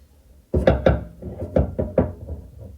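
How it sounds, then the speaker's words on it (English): Large fuel level sender nut on a red Mercedes W124 struck and worked with a 15-inch adjustable wrench, a series of about six dull, close metallic knocks in quick succession. "I have my 15-inch adjustable wrench, and that does the job perfectly in its maximum open state."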